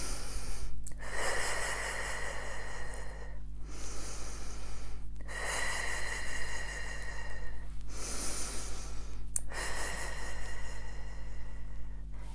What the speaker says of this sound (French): Vous allez respirer et tapoter.